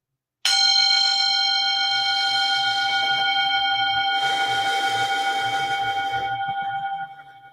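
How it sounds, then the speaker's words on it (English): A meditation chime is struck once and rings out clearly, its bright sustained tone slowly fading over several seconds with soft background noise beneath. "I always like to begin with a chime to set the tone."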